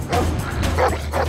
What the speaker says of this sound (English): These 4-legged cops are the latest recruits to Durban's dog unit.